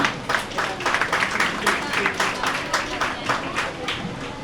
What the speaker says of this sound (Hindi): मेरी काबिल दोस्त के लिए एक बार जोरदार तालियां होनी चाहिए।